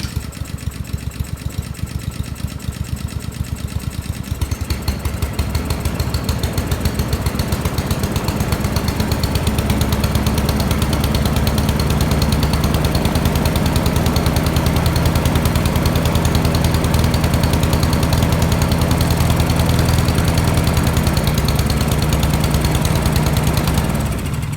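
A Honda-powered Husqvarna lawn mower, already warm, starts and runs, its engine rattling in a rapid, loud putter that settles into a steady, close drone for over twenty seconds.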